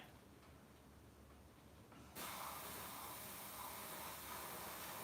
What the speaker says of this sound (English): I'll kind of keep that in mind as I'm airbrushing